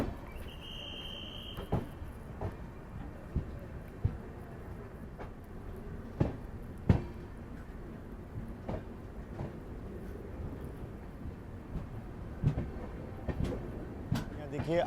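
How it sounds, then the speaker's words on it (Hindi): Passenger train noise at Mathura Junction as the New Delhi–Agra Cantt Intercity Express pulls in: a steady low rumble with sharp clacking wheel impacts at irregular intervals, moderately distant, with faint voices in the background. "सामने से नई दिल्ली आगरा कैंट इंटरसिटी भी आ रही है"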